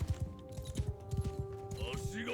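Horses' hooves clip-clop in a rapid, uneven patter in the Shokuho samurai strategy game, with low tonal game music underneath and a few brief swooshing effects near the end.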